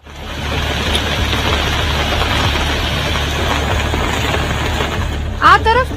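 Heavy monsoon rain pours steadily in Pardi taluka, Gujarat, a dense continuous hiss with a low rumble underneath, and a voice briefly cuts in at the very end.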